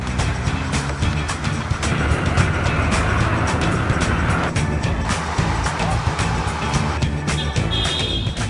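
Cars rolling along in a Chinese wedding convoy, a steady broadband road and engine rumble that stays fairly loud throughout, with scattered brief clatters and faint bits of voices in the background.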